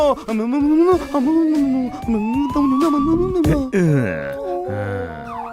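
A voice imitates an ambulance siren with a 'pililip pililip' call, wailing in long rising and falling tones up close and loud.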